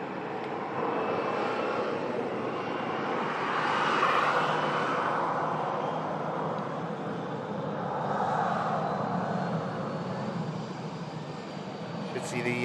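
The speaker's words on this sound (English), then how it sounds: "Emirates A380 just lining up now" An Emirates Airbus A380 airliner lining up on the runway gives a broad, steady engine roar from a distance, swelling slightly and easing again, with a faint rising whine.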